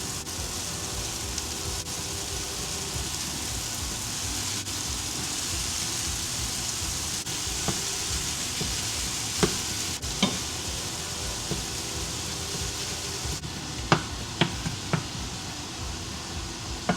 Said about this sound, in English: Then we're gonna go ahead and add our meat in.